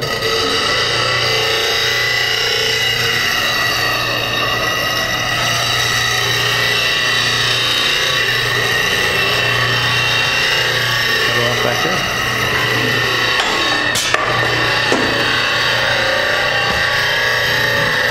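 A bench grinder hums steadily while a woodturning tool is sharpened against the wheel, with a scraping grind running throughout, a sharp click near the end and voices talking over it.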